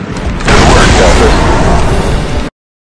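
Grenade blast in Star Wars Republic Commando, a loud close boom that bursts in and roars with heavy rumble for about two seconds before cutting off abruptly to silence.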